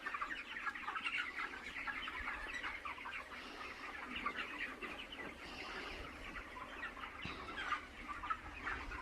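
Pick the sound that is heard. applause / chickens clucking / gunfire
chickens clucking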